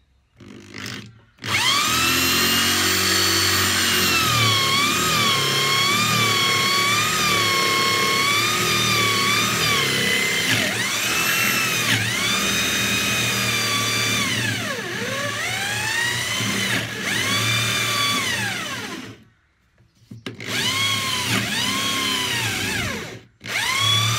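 A power drill bores holdfast and bench-dog holes into a wooden workbench, its motor whining loudly and steadily with pitch swoops as it bites and eases, with brief pauses near the start and end.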